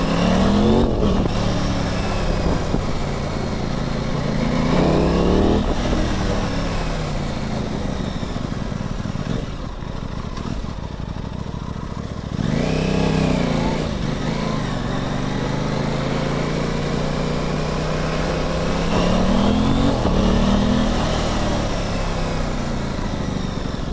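An Aprilia Tuono 660 motorcycle with poor throttle response rides along with a loud, continuous engine drone, rising in pitch through several accelerations and dropping back between them, recorded close with wind noise and no talk.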